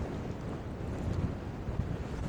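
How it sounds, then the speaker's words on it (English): Strong wind buffets an exposed headland above the sea at Berry Head, roaring and gusting continuously against the microphone with no other sounds. "It's very windy up here"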